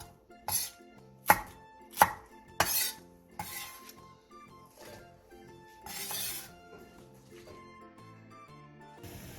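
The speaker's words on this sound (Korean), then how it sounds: "매운 꽈리고추 15개를 크기에 따라 2에서 3등분으로 잘라주세요" A knife chops spicy shishito peppers into pieces on a cutting board, several sharp, close strikes in quick succession early, then lighter cuts with faint clinks of utensils; no talking.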